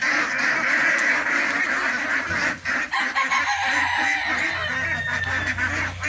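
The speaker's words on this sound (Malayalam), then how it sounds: "കുട്ടനാടൻ താറാവുകൾ സെയിലിന് റെഡി ആയിട്ടുണ്ട് പുതിയ ബാച്ച്" A flock of Kuttanad ducks, about three and a half months old, quacks steadily at a farm, a dense close chorus of overlapping calls with some fowl-like clucks, continuous and loud throughout.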